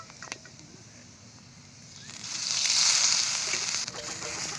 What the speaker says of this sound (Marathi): ते पण तव्यात थोडासा तेलाचा टिपका टाकूनच भाजणार आहे